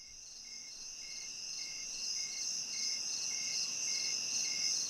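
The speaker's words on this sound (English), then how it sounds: "We added more crickets, I think." Crickets chirp steadily through a music recording, a high pulsing trill repeating evenly and moderately loud over a faint low background, with no voices.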